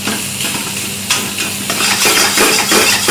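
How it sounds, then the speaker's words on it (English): Raw keema mince pressed with the back of a spoon and stirred in an oiled pan, a steady close sizzle with repeated scraping and mashing strokes that grow busier and louder. "Now I'm using the back of my spoon just to mash it up,"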